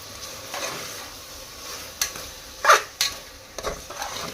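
Onion curry being stirred in a frying pan, a soft sizzle underneath with several sharp scraping clicks of the spoon against the pan, close and intermittent, no talking.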